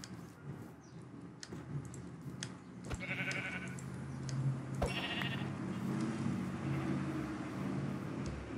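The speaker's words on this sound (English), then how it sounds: "Black sheep." Sheep bleating in the Minecraft video game: two short, bright bleats a couple of seconds apart over a low, steady background hum, with no talking.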